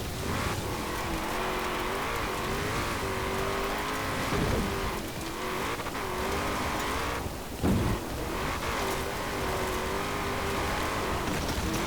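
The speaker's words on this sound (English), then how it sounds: "There's a nice sounding V8 which revs remarkably quite high." A video game's 1969 International Harvester Loadstar truck driving off-road: its V8 engine drones and revs continuously, pitch rising and falling through gear changes, with a couple of brief thuds along the way.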